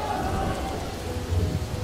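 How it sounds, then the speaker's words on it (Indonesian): Heavy rain pours down in a steady, loud wash with a low rumbling undertone, filling the whole moment without voices. "Hujan lagi."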